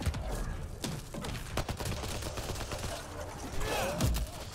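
Video game firefight in Mass Effect: Andromeda, with rapid bursts of gunshots cracking in quick succession over busy combat effects, a voice speaking briefly over the shooting.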